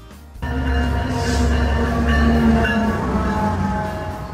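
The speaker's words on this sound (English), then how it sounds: "Double-decker train." A double-decker train rumbles past in a loud, steady roll with a tonal hum layered over it, holding even from start to finish.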